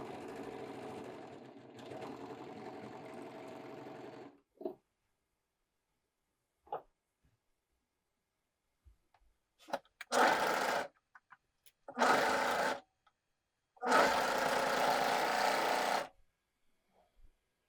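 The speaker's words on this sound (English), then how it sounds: "A serger is great for sewing knits." Serger sewing machine stitching knit fabric, running in several loud buzzing bursts of one to two seconds with short silent gaps between, close by, without talk.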